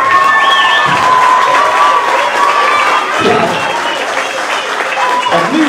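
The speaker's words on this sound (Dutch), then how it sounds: "En graag even een applaus voor alle deelnemers hier op het podium." Loud, close applause and cheering for contestants on stage at a youth prince election, with shouting children and whistles mixed into the dense clapping throughout.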